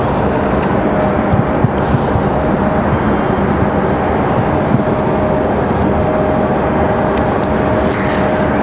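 An Icelandair airliner landing at Raleigh-Durham airport gives off a loud, steady, broad roar that stays constant throughout.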